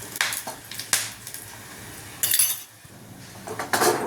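A metal spoon scrapes and clinks against a pan in several bursts, with quiet pauses between the stirring strokes.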